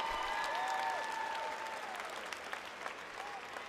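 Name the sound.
graduation audience applause for faculty and staff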